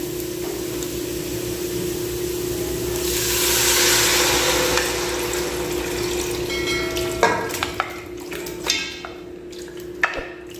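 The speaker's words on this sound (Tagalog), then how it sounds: "Pag gisang-gisa na mga recipe, pwede na natin ilagay yung ating minarinate na beef." Marinated beef for a beef-with-pineapple-juice dish sizzles steadily in a hot pan, a close, continuous frying hiss that swells midway, then gives way to sharp scrapes and clatters of stirring near the end.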